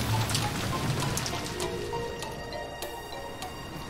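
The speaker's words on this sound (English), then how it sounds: "In fact, the rain and wind felt even noisier now." Rain and wind from a storm in the Umineko visual novel hiss steadily, a soft continuous wash dotted with faint drip-like ticks, fairly quiet and with no voices.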